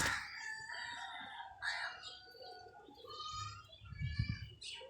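Pigeons at a pigeon club, with bird calls and cooing scattered across the clip and a low, throaty coo rising near the end. Someone speaks over the birds throughout.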